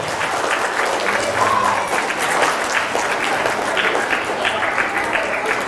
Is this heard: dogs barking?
no